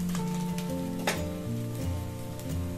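Spices hit a hot pan of sizzling oil for a village-style country chicken curry, a steady close-up frying hiss with a brief sharper crackle as the masala goes in, over a constant low background hum.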